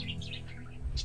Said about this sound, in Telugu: ఇవి ఆఫ్రికన్ లవ్ బర్డ్స్ అండి